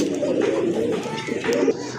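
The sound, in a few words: Lahori pigeons cooing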